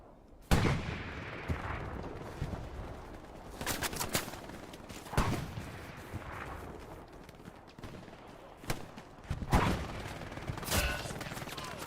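Gunfire in the tactical shooter Hell Let Loose, with a machine gunner firing from a wall in a competitive 18v18 match: sharp scattered shots and bursts at moderate distance, spaced irregularly across the scene without talk.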